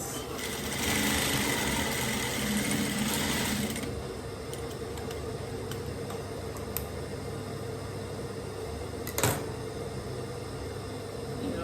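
A sewing machine stitches the lining of a bomber jacket, running in a steady whir for the first four seconds, then stopping and leaving quiet room noise with a small knock near the end.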